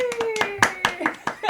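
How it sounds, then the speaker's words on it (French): Brief burst of hand clapping from an audience welcoming a guest, a few sharp claps mixed with lively voices. "l'applaudit!"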